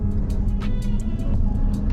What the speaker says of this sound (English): Onto the throttle, full throttle.